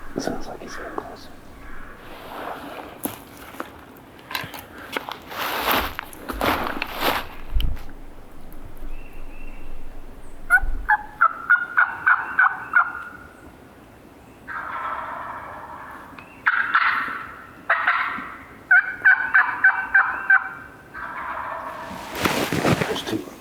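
Wild turkeys gobble in the Illinois woods in several rapid, rattling bursts at moderate distance, answering one another, while a hunter whispers quietly nearby.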